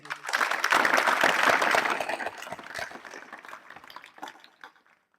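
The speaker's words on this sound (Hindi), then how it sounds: "तो एक बार तालियों के माध्यम से उनको धन्यवाद देंगे।" Audience applause at a school yoga camp held at a government school in Chanwara, Udaipurwati, Rajasthan: a dense burst of many hands clapping that swells quickly, holds, then thins into scattered claps and dies away.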